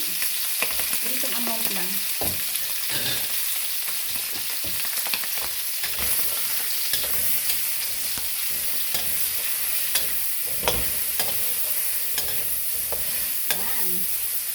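Garlic and onion sizzle steadily in a hot pan for sea cucumber with pork belly, with a constant frying hiss and occasional stirring scrapes and clinks close by, while a voice speaks briefly.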